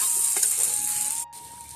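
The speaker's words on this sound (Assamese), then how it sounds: "মাংসখিনি ধুনীয়াকৈ ভাজি হয়" Meat frying in a pan at home, a strong steady sizzle with a faint stir, briefly cut off near the end before a quieter sizzle resumes.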